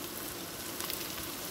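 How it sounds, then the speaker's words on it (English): Vegetables fry in a pan for a potato and ginger dish, a steady close hiss and sizzle with faint crackles and no talking. "after 2 minutes of frying the vegetable"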